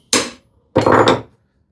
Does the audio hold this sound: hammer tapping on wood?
yes